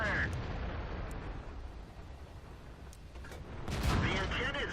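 Tank guns fire in World of Tanks, a booming shot heavy in the lows followed by a louder blast near the end over a rumbling engine background. Someone talks quietly during the battle.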